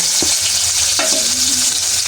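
Steady, dense sizzling of snakehead fish frying in hot oil, continuous and close, with a faint background hum.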